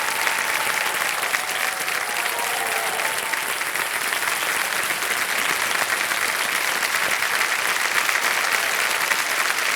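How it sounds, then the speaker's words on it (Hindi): Studio audience applauding on the Indian TV quiz show Kaun Banega Crorepati, loud, dense, sustained clapping at an even level throughout, with a faint musical tone briefly underneath near the start. "तालियां बज जाए इनके लिए।"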